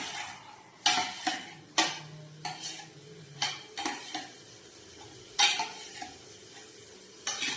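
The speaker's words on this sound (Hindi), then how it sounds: "लाल मिर्च लहसुन जीरा। अब तड़का लगाएंगे।" Red chili, garlic and cumin are tempered in hot oil for a dal in a home kitchen, with a soft sizzle under repeated close clanks of a spoon against the pan at an irregular pace.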